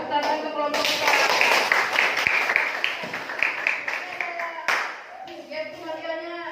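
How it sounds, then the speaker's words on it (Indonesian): A classroom group claps for group 4, a burst of brisk hand clapping from a modest crowd that thins out after a few seconds, with a voice speaking before and after it. "tepuk tangan ke kelompok 4"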